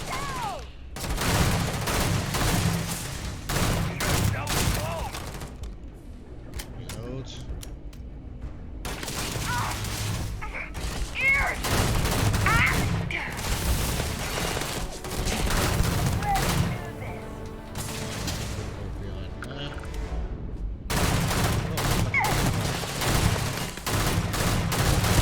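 Rapid gunfire bursts from the video game Starfield, repeated volleys of loud shots in long stretches broken by brief pauses, with a muffled voice beneath at times.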